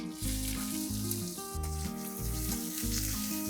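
Onion, cumin, fennel and curry leaves sizzle in hot oil in a pan for a Maharashtrian samosa filling, a steady crackling hiss heard under loud background music.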